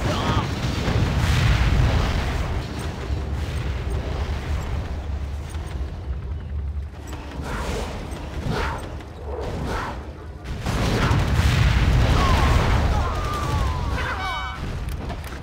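Gunfire and booming explosions from the real-time strategy game Command & Conquer Generals Zero Hour, a loud, dense wash of blasts and rumbling detonations that swells at the start and again near the end, with scattered sharper bangs in between.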